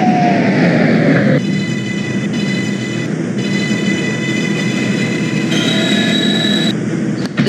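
A New York 6 subway train in the OpenBVE simulator runs along the track with a loud, steady roar of wheels and motors, overlaid with tonal electric whines that shift pitch as it travels.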